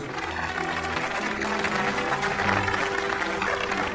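An audience claps steadily to welcome a newly appointed teacher at a school stage gathering, a dense continuous applause over background music.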